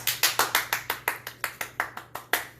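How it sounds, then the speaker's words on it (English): Steady applause of roughly a dozen sharp, evenly spaced claps in a home kitchen, fairly close and alone with no talking, over a faint constant hum. "people even clap when I'm all by myself in my kitchen"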